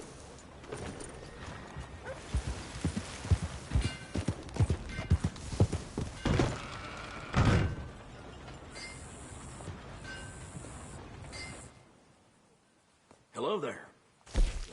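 Horse hooves clip-clop on the ground in a video game, a steady run of close, fairly loud hoofbeats with people talking over them, then a quieter stretch near the end.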